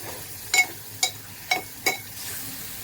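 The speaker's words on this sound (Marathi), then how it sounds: "कांदा आणि लसूण हे आपण शिजवून घेऊया" Onion and garlic cook in a pan for a dry fish dish, with a faint sizzle beneath four evenly spaced, sharp utensil taps against the pan.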